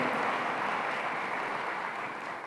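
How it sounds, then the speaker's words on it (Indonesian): Congregation applauding during a church sermon, a dense, steady wash of many hands clapping that fills the room and fades slightly at the end. "Tepuk tangannya pula yang paling meriah buat Tuhan kita."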